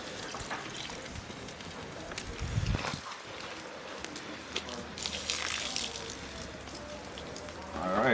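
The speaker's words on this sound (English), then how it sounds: "Wash it off a little bit." Running water rinsing food during outdoor Jamaican cooking, a steady broadband splash and hiss throughout with a brief louder gush near the start, heard close with outdoor background noise.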